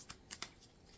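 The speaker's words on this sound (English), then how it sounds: "I'm going to shuffle these up real good" Playing cards for the Curios board game are shuffled in quick riffling bursts, three short crisp flicks close by and fairly quiet, with no talking.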